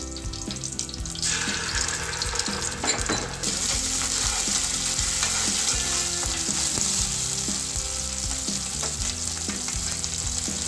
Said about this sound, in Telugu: అల్లం పేస్ట్ వేసుకుందాం